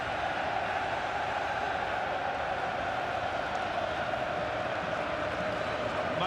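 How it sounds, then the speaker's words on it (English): A Wembley crowd roars steadily for England at a 2013 Rugby League World Cup semi-final against New Zealand, a dense, continuous wash of massed voices filling the stadium from start to finish. "Make some noise for England as on the illuminated signage around the ground. And the crowd is doing that."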